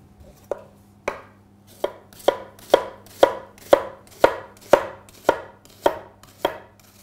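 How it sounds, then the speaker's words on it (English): A knife dices an onion on a board in about a dozen crisp, evenly spaced chops, close and loud, with no voices. "by just dicing your onion"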